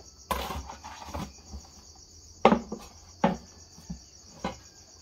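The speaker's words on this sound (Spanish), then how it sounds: "Ya lo voy a raspar bien ese guacal" Someone scrapes a wooden bread crate in a bakery at night, making several short, sharp scraping bursts spaced a second or so apart, while crickets chirp steadily in the background.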